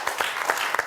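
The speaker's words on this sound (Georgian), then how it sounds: "ერთი კარგი აპლოდისმენტები მიუძღვნათ ამ ადამიანს" Brief burst of audience applause at a live event, a second of dense clapping with no talking over it.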